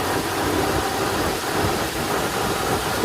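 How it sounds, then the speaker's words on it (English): Jeep XJ engine idling while still completing idle calibrations after a serpentine belt job, a steady broadband rumble and hiss at constant level with no talk. "I'm idling, still completing the idle calibrations here."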